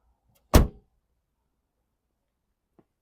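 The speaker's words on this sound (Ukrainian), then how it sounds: "дверки відкриваються досить приємно, закриваються також" A single solid 2014 Nissan Leaf car door thunk, loud and close, followed by quiet and a faint small click near the end.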